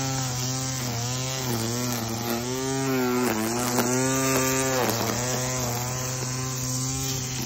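A string trimmer runs continuously nearby, its small engine whining in a steady buzz that rises and falls in pitch as the throttle changes while cutting; no talking.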